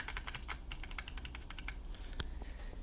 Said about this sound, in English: it is a great sounding keyboard, and it feels great